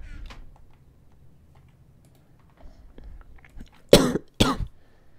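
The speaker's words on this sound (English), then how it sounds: "Hooray for coughs." Two harsh coughs close to the microphone, one right after the other, following a stretch of quiet keyboard tapping.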